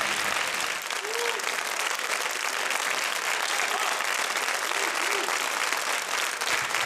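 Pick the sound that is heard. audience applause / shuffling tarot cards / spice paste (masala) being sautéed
audience applause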